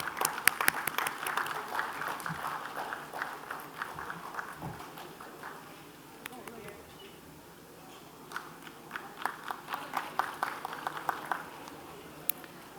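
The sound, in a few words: audience applause at a conference award presentation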